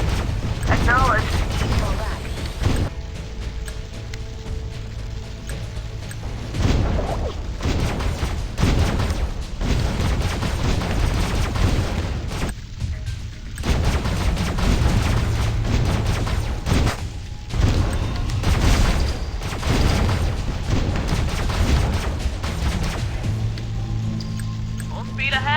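Repeated gunfire and booming explosions from the mobile shooter game Last Z: Survival Shooter pound in dense clusters throughout, with short lulls between them, under clipped voice lines from game units.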